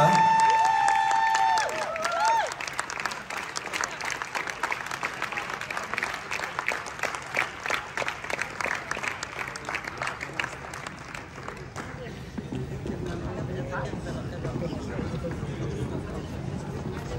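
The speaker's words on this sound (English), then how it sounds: "Applause for this beautiful rumba." Sustained audience applause with scattered cheers in a ballroom at a WDC amateur Latin dance final after a rumba, dense clapping fading toward crowd murmur near the end.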